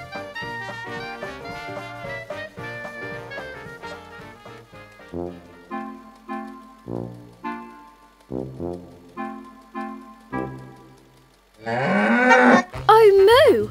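A cow moos loudly and suddenly near the end, a long wavering call cutting in after a stretch of bouncy children's cartoon music on a farm.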